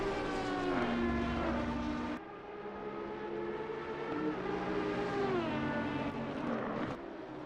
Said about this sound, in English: Just hear that by the sounds of that car itself.